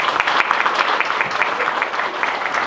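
A church congregation at a memorial service claps to welcome the pastor, a continuous dense round of applause at even strength throughout.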